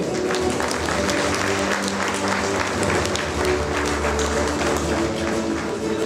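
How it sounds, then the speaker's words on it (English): Audience of parents applauding at a school annual day prize announcement, a continuous mid-distance round of clapping with faint hall murmur and a low hum underneath. "Parents kindly applaud."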